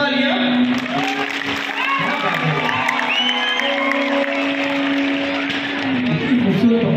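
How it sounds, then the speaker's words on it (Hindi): A concert crowd at a show in Akbarpur, Ambedkar Nagar claps and cheers steadily throughout, a dense, close wash of applause with whoops, while a sustained musical tone carries underneath. "एक बार जोरदार तालियां।"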